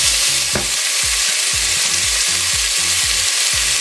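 Oxtail cuts for Jamaican oxtail sear in a hot pan with a loud, steady broadband sizzle, plus a low repeating rumble underneath and no voices.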